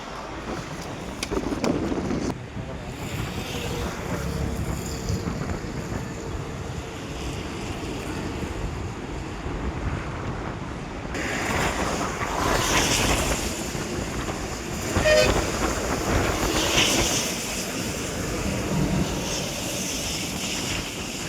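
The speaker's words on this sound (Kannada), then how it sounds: "ಚಿಕ್ಕಮಗಳೂರಿನಲ್ಲೂ ಧಾರಾಕಾರವಾಗಿ ಮಳೆ ಆಗ್ತಾ ಇದೆ" Heavy rain and strong wind sweep across Chikkamagaluru, a continuous broadband roar with gusts that swell and ease, buffeting the microphone throughout and rising again partway through.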